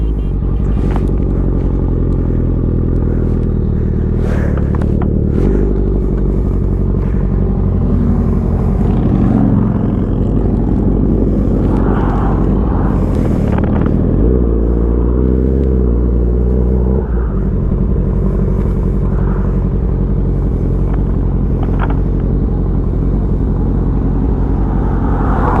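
Honda CBR1000RR sport motorcycle being ridden, its engine droning loudly and steadily with rising and falling pitch as revs and gears change, a continuous close rumble with no talk over it.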